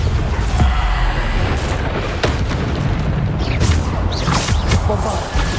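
Repeated booming blasts from the Bombarda explosion spell in Hogwarts Legacy, several heavy bursts with crackling debris layered over dense, continuous game noise, loud and close with no talking.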